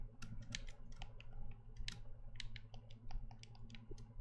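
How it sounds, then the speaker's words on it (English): Quick, uneven clicks of fingers typing on a computer keyboard, close and fairly quiet over a steady low background hum, with no one speaking. "it captures every single click of my mouse and every time I touch the keyboard"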